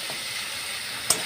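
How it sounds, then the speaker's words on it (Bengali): Broad beans stir-frying in a pan with a paste of ground coriander leaves, green chilli and garlic: a steady, quiet sizzle with a brief sharp clink near the end. "এবার এটা দিয়ে আমি ভালো করে নেড়ে চেড়ে ভেজে নিই।"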